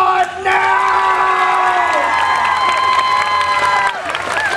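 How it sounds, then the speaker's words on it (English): Audience at a live stage show at Halloween Horror Nights applauding and cheering, a dense continuous crowd roar with whoops and shouts throughout, loud and close. "You may applaud now!"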